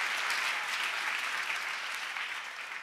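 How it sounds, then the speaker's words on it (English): A church congregation claps hands together at a preacher's urging, a dense, steady wash of many hands that holds at an even level for the whole stretch and tapers slightly near the end. "Clap your hands like you want to."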